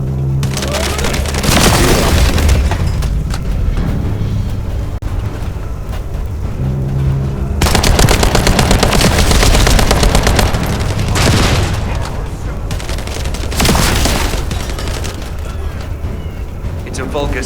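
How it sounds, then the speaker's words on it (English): Turret gunfire in The First Descendant, a sci-fi shooter game, rattles in sustained bursts with booming impacts, loud and dense throughout, with game voices occasionally speaking under the din. "I'll operate turrets to keep the surrounding area secure"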